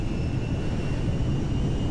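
A DC-10-30F airliner's engines at full takeoff power in GTA 5 make a steady, loud, dense roar with a faint high whine held throughout.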